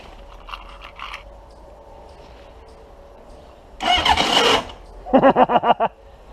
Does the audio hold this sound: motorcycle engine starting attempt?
yes